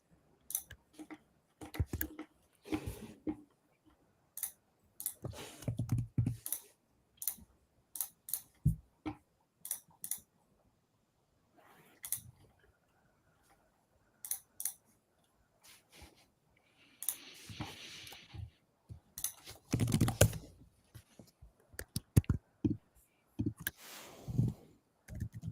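Irregular clusters of light clicks from typing on a computer keyboard during an online community call, coming in short uneven bursts with pauses between them, fairly quiet and close, with faint background noise.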